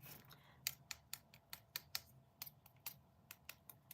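Crispy heat-set scrapbook paper handled up close, giving a run of sharp, dry crinkling clicks at an uneven rhythm, quiet and with no talking over it.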